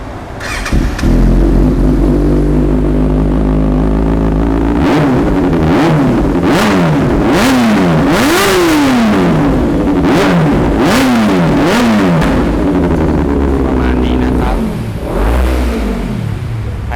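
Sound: motorcycle engine revving

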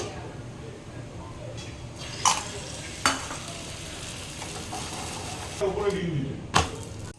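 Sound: egg frying in a pan for a chicken roll

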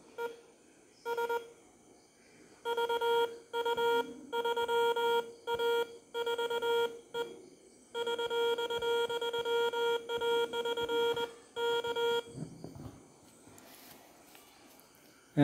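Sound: Morse code CW tones sent by an ATtiny13 keyer

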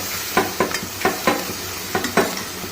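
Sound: chopped onions added and stirred into a frying mixture

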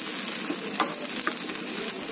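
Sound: sauce stirred into sizzling vegetables for bread Manchurian

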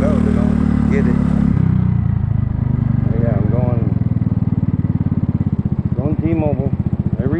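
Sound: Kymco People 250cc scooter engine idling

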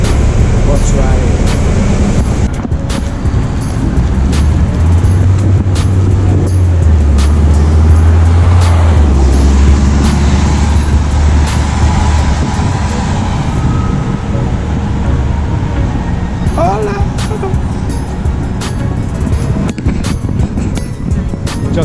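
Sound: city bus ride

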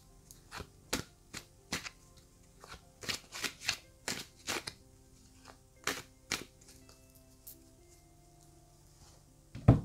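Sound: shuffling tarot cards

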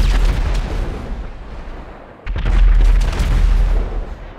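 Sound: UFO laser cannon firing in video game GTA V mod

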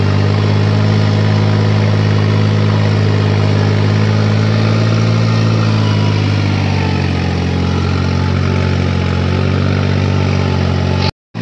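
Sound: tractor engine running at full throttle

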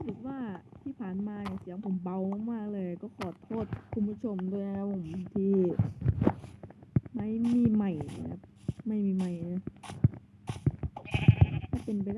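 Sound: sheep bleating in the video game Minecraft

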